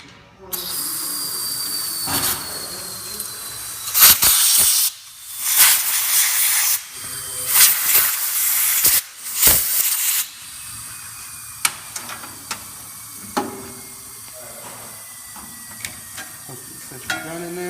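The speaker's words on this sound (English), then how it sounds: "when you squirt xylene in there, you want to blow it out as soon as possible" Compressed air blasts through a spray gun to clear out xylene, heard as a run of sharp, loud hissing bursts in the first half that give way to quieter scattered clicks and handling noise.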